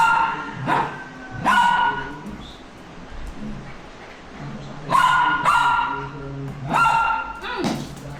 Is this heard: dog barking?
yes